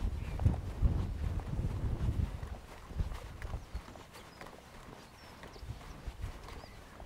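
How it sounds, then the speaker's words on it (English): Strong wind on an open hill walk up Ogmore Downs, gusting and buffeting the microphone in low rumbling bursts that ease off toward the end, with no voices. "Hopefully you can hear me because the wind's really picked up."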